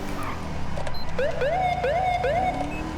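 A police car siren wails in rising and falling sweeps as it passes in the video game GTA V, with a police-mode mod running, sounding fairly close over a steady background rumble.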